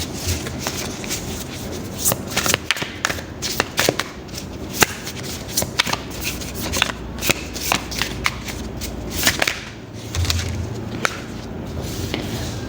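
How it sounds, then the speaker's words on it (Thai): Tarot cards are shuffled by hand up close, giving quick riffling bursts and sharp papery snaps and taps in an uneven rhythm, clear and dominant with no voice over them. "ขอจัดไพ่นิดนึงเนาะ"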